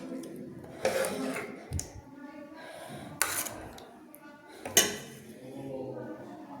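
Plates and utensils clink as cabbage-and-egg curry is served piece by piece from a kadai onto a plate, with a few sharp metallic knocks standing out over softer scraping and handling noise, close by and with no talk.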